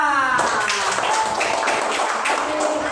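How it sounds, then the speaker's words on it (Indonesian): A group of students claps together on a teacher's request at the end of a school lesson. The brisk, close clapping starts abruptly after a short voiced moment and continues steadily to the end. "sekarang tepuk tangan semua"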